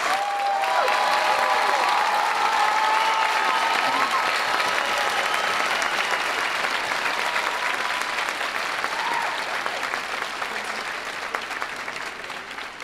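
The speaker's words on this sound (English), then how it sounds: "Please give them a round of applause." A large commencement audience gives the graduating class of 2011 a long, dense round of applause, steady and full throughout with some cheering mixed in, fading slightly toward the end.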